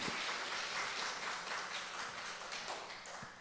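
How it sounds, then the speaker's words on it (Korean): A church congregation clapping for the accompanist during a Sunday afternoon service, a soft, steady patter of many hands that gradually thins, heard fairly faint and without speech. "한 번 더 박수 한번 해줘요."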